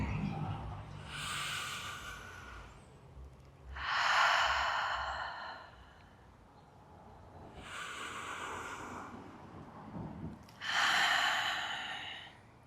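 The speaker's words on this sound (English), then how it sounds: "Taking nice full deep inhales through the nose and exhales out the mouth." Slow, deep breaths during a relaxation exercise in a home balance workout, drawn in through the nose and pushed out through the mouth, four long airy breaths close to the microphone with quiet pauses between.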